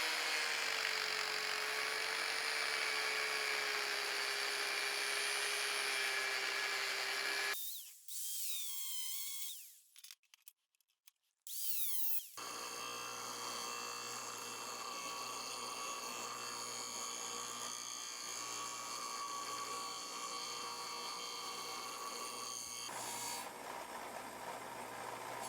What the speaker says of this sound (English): I'll just use my angle grinder to kind of create that curve shape